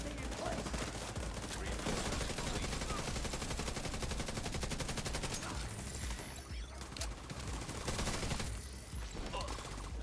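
Sustained rapid automatic gunfire in the video game The Division 2, a dense, loud stream of shots with a brief lull near the end before firing picks up again.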